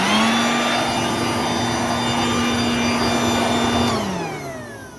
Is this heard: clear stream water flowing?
no